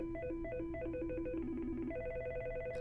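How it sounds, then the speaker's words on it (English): A Mitel 6865 desk phone plays ringtone samples: a quick sequence of bright electronic warbling beeps, changing pattern partway through as tones are cycled, clear and alone at close range. "Press the down arrow to cycle through the various ringtones."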